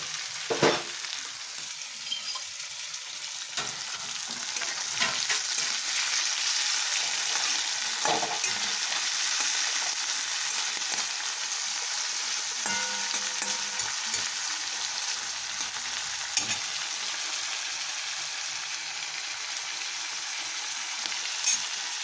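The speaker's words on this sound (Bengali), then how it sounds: "অনেকটা চিংড়ি মাছ তো, এটা বেশ ভালো করে ভেজে নিতে হয়।" Prawns frying steadily in a pan, a continuous close sizzle with occasional stirring scrapes, no talking.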